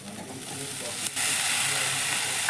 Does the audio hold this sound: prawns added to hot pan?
yes